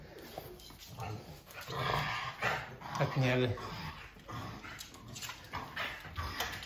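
Bulldogs growl and whimper close by in a home, in soft intermittent bursts mixed with a child's and adult's voices talking.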